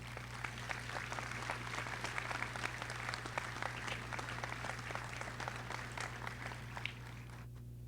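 Audience applause at a school graduation ceremony in Orange Beach, a steady wash of many hands clapping throughout, fairly distant and even, over a constant low hum, with no one speaking.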